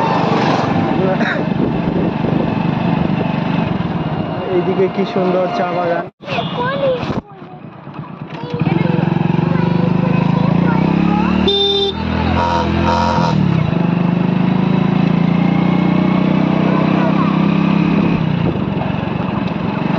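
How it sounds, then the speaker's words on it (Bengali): Small vehicles and battery e-rickshaws (toto) pass along a rural road to a village fair, a continuous close motor drone with brief dropouts, while someone talks over it. "দলে দলে লোকজন যাচ্ছে, ছোট ছোট গাড়িতে করে, টোটোতে করে"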